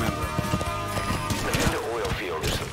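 A large horse in the Metal Gear Solid V video game snorts and clops about amid other game sounds, and someone talks over it.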